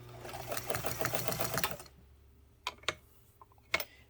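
A Necchi Mira BU sewing machine running off a wired foot pedal stitches a zigzag in a loud, rapid run for almost two seconds, then stops, leaving a few sharp clicks and knocks.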